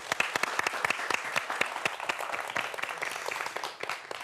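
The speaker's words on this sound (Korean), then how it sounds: "박수 부탁드립니다." A small audience applauds after an introduction at a talk on dinosaurs and human evolution, the individual hand claps distinct and fairly quick, a moderate, uneven patter that carries on steadily throughout.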